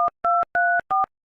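Telephone keypad dialing tones: four short, evenly spaced dual-tone beeps, clear and close, with silence between them and no voices.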